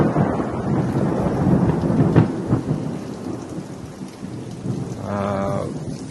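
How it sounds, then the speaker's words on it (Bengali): Heavy rain pours steadily on day two of a continuous downpour while thunder rumbles low and broad through it, with one sharper crack near the middle and a distant bleat-like tonal call toward the end. "একাধারে বৃষ্টি হচ্ছে 2 দিন।"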